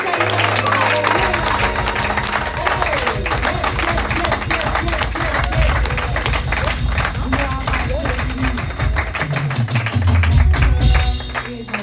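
Congregation at a French-speaking church youth conference applauding the Lord, rhythmic clapping from a large crowd alongside cheering, a preacher's amplified voice and background music, sustained and loud throughout.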